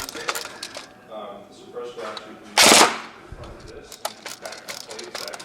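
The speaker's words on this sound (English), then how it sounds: "now we're going to get the rate of fire using an 11-1 LiPo battery" An ARES Amoeba M4 electric airsoft gun running on an 11.1 V LiPo battery fires one short, sharp full-auto burst amid scattered mechanical clicks and rattles from handling.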